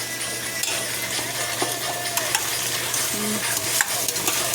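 Vegetable biryani being stirred in a pot, with soft scraping and occasional metallic taps from a ladle over a steady low hiss, close and moderate, no voices.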